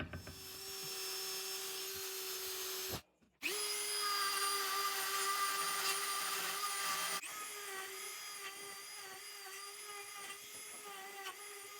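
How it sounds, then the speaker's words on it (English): A wire wheel spins against loose rust on the steel seat base of a Mercedes R107 SL, giving a steady, loud whining grind with a brief pause partway through and a shift in pitch as the pressure changes. "we're going to just go over it with a wire wheel, get off all of this loose rust"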